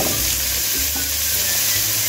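Diced washed onions fry in oil in a pan for papa rellena, a steady loud close sizzle with a few faint stirring touches and no talk.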